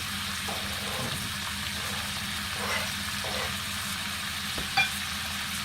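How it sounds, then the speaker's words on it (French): Steady sizzling and frying of venison browning in a hot pan, a constant hiss with occasional faint stirring clicks and no voices. "on va attendre que ça grille un petit peu"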